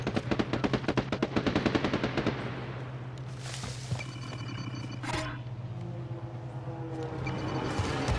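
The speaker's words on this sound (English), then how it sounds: "Hey, they're shooting." Rapid automatic gunfire rattles in a long burst in a multiplayer shooter game, then gives way to scattered single shots and game effects, with no one speaking.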